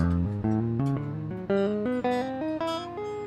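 Close, unaccompanied guitar walking up the strings in even pairs of notes, each plucked then hammered to a wider-stretched second pitch.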